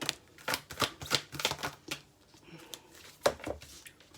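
Tarot cards are shuffled by hand in quick riffling bursts of soft papery flicks and snaps, followed by a pause and a few more card slaps, close and fairly quiet.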